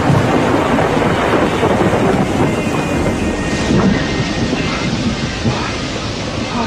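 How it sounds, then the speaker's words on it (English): A violent thunderstorm with dense, steady rain and rolling thunder, loud and continuous throughout, with wind buffeting the microphone. "It was for me the biggest and the strongest thunderstorm that I ever saw."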